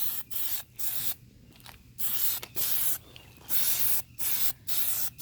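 A spray can lays a second, slightly heavier coat of paint onto a BMW 335i kidney grille being converted from chrome to black: short hissing bursts, about eight, separated by brief pauses, fairly close and clear.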